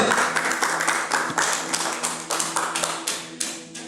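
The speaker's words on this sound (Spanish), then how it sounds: "Denle un fuerte aplauso al Señor" A church congregation claps for the Lord during a Bible class, a dense run of sharp, close hand claps that carries on steadily for several seconds.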